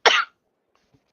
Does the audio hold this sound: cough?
yes